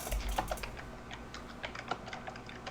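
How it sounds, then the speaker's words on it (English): Loud computer keyboard typing, a quick run of close clicky keystrokes in uneven bursts, heard alone without talking. "Also, loud keyboard, somebody. Stop it!"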